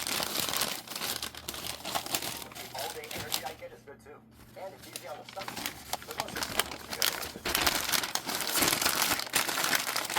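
Paper crinkles and rustles in bursts as drinking glasses are wrapped by hand, the crumpling close and fairly loud, with a brief lull midway; a person talks over much of it.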